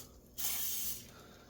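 A single short burst of cooking spray hissing onto a hot griddle with pancakes, close and fairly soft, lasting about half a second before trailing off into quiet.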